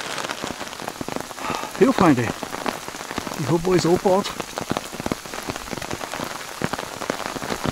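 Raindrops patter steadily on a tarp in a dense, close, even drumming that runs throughout, while someone speaks briefly in the middle.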